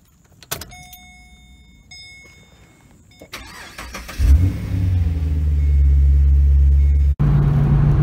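A Holden-built car's engine cranks and catches after some clicks and rustling on a semi-cold start, then settles into a loud, steady idle with a brief dip near the end.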